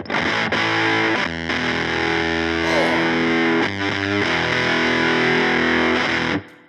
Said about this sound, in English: That really sounds like one of those fuzzes where you've got like the half-drained battery